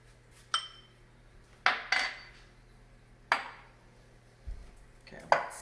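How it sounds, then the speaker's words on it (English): Sausage and cheese mushroom stuffing is stirred in a bowl, heard as a handful of sharp utensil clinks and scrapes against the dish at irregular intervals, with quiet pauses between them. "Okay, let's get it all stirred."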